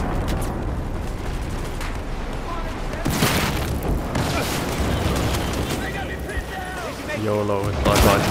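Grenade blasts in Battlefield 4 gameplay on the Operation Metro map: a broad booming burst arrives about three seconds in, with dense rumbling battle noise before and after and a sharp pop near the end.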